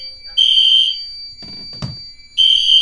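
A fire alarm sounds on a test board after a heat detector is triggered with a hair dryer: two bursts of a steady, piercing electronic tone, separated by a short pause with a brief voice and a sharp click.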